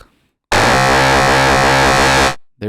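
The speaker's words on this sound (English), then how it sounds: "There is such a thing as too much distortion." Heavily distorted synth tone from a Reaktor Blocks DWG oscillator: a loud, gritty, buzzing drone with a steady pitch that holds for about two seconds and then fades away.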